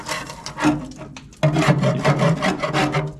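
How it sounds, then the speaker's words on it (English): Screwdriver scraping old coating off the bed of an International Scout II, a run of close, rough rasping strokes with a brief pause partway through before the scraping picks up again. "you might have to scrape at it, but it'll all come off"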